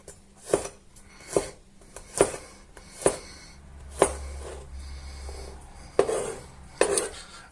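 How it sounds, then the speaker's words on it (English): A knife slices through a couple of garlic cloves on a board, giving about eight sharp, evenly spaced chops close up, with no talk. "I will start off by slicing a couple of garlic cloves"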